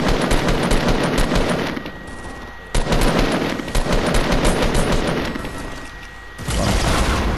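Fortnite gunfire in a squad match: loud, close, rapid automatic bursts crackle in long volleys, broken by a few short pauses, with no talk over them.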